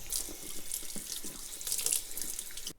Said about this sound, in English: Now I'm just gonna rinse this.